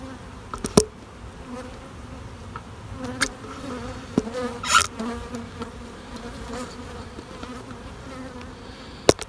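Dense, steady hum of many honey bees buzzing close by in an open hive with three deep supers, with a few louder individual passes and faint thumps, no talking.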